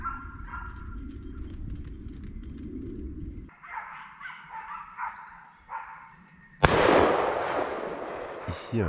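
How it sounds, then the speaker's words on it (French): A gunshot fired at a wild boar breaking out of a driven hunt, a sharp loud blast that cuts in suddenly after a stretch of outdoor ambience and lingers as a broad rumbling tail. "Ici, un joli sanglier sort de la traque, il est tiré une première fois."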